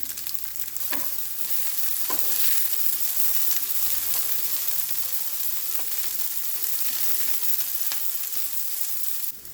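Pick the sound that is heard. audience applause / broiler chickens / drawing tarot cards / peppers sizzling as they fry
peppers sizzling as they fry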